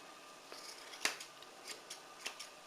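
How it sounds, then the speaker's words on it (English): Scissors trimming a dog's fur around the paw pads during grooming, a handful of crisp snips spaced about half a second apart, quiet and close with no talking. "you're just going to trim up around the pads"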